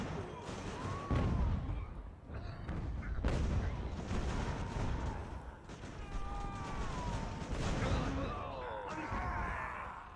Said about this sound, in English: Are these guns firing canister?